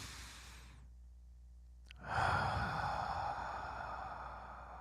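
A single slow, deep breath drawn in and then let out in a long, audible exhale, close and clear against a quiet background.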